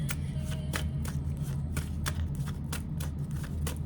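Tarot cards being shuffled by hand in a steady series of soft riffling flicks over a constant low background hum.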